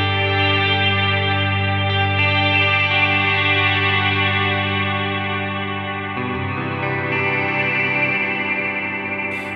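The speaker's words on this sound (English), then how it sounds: "We're gonna be using the Glitz reverb with these settings." Guitar played through a Line 6 HX Stomp with the Glitz reverb at maximum decay, sustained shimmering chords washing into a dense, chorus-like ambient swell that stays loud and continuous throughout, with no talking.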